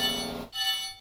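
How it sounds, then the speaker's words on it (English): Locomotive bell on a GE ES44AC freight engine in the Stormworks video game, two bright metallic rings in quick succession, clean and close with no talking. "this also has a bell that works"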